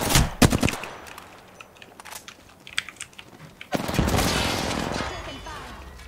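Apex Legends gunfire opens with a loud close burst of rapid shots, then scattered clicks and taps, and ends in a dense stretch of sustained firing.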